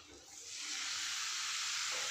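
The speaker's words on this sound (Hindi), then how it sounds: "और डालने के बाद इसमें हम हल्का सा पानी जो है ऐड कर देंगे" Water poured into a hot pan of spiced chana dal sets off a rising hiss that swells within the first second and holds as a steady, loud sizzle.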